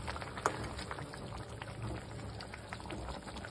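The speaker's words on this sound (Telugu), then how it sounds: "ఒక్క 2 మినిట్స్ ఇట్లా సిమ్లో ఉడకపోవాలి." A pot of rohu fish curry simmering gently on low heat, a soft steady bubbling with scattered small pops throughout, quiet and close, with no voices.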